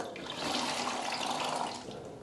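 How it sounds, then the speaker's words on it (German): Water runs and splashes steadily as a wet sponge float is wrung out during bathroom tiling, a soft continuous trickle heard close and alone. "dann kann man es schön ausdrücken. Hier am Rand kann das Wasser runterlaufen."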